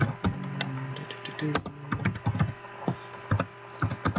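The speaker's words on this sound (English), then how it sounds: "So typing and all that stuff gets picked up even though it shouldn't." Typing on a computer keyboard, close and moderately loud, irregular clicky keystrokes with occasional heavier thunks, heard alone without talk.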